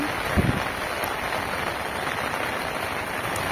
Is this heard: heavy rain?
yes